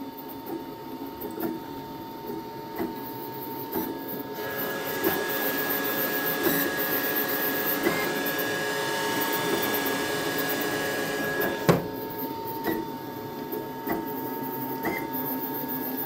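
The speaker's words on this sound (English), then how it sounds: "This is what it's like without noise cancellation." An Anycubic Kobra S1 3D printer running unmuffled: a steady mechanical hum and whirr with a constant high tone, swelling into a louder rushing stretch mid-way, punctuated by small clicks and one sharp knock, close and alone.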